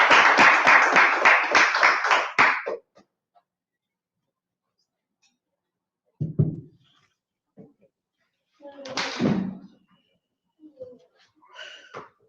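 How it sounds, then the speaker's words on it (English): A group claps for a class in quick, rhythmic strokes for about two and a half seconds and then stops abruptly. Silence follows, broken by a few brief voices and small sounds. "Clap it up for the class."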